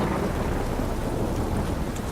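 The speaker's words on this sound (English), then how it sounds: "If it don't stop raining, my arse will rot off. This downpour's a bastard, it is." Heavy rain pours down with a deep rumble of thunder in The Witcher 3, a dense, loud and steady roar with no voices.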